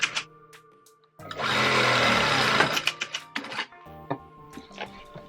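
A sewing machine runs in one steady burst of rapid stitching on a quilted carry-all bag, close and fairly loud, framed by short clicks and handling noises.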